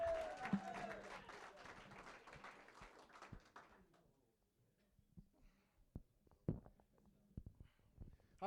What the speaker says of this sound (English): How about a round of applause for Patrick?